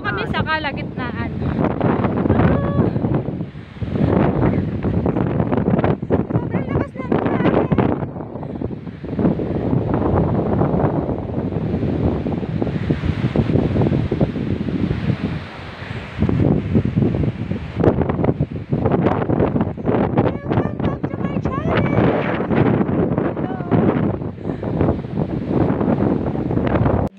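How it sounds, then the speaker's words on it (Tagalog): Strong wind on the Mt. Tarak mountain hiking trail, loud and continuous, buffeting the microphone in heavy roaring gusts while hikers talk and breathe over it. "Sobrang lakas ng hangin."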